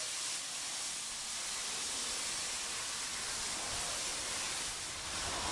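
Water pours steadily into a pot set over hot coals on a Cajun grill, a continuous loud rushing hiss lasting throughout with no talking.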